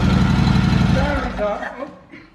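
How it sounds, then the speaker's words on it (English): A brand new engine in a 1937 Indian Chief motorcycle runs loud and rumbling in a garage after a cold start, with a steady low throb that eases off toward the end. "That's a brand new motor. Listen to it."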